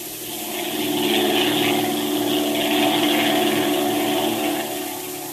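Propeller airplane engine droning steadily at close range, a loud sustained hum that swells slightly and holds for several seconds with no voices over it.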